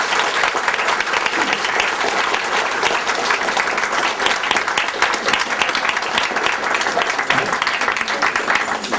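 A school audience applauding, dense loud clapping from a large crowd that holds steady for the full stretch without pause, with faint crowd murmur beneath.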